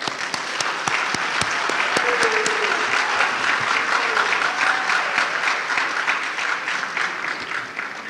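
Sustained applause from a conference audience at the close of an e-learning international conference, steady dense clapping filling the hall for about eight seconds with faint murmurs underneath.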